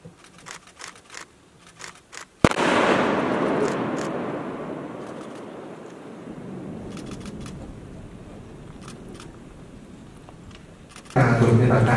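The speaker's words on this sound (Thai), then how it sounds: "จุดระเบิด" A single sharp blast from a controlled landmine detonation on the Hill 491 battlefield at the Thai–Myanmar border, followed by a long rolling rumble that fades slowly, with a public-address voice talking before and after.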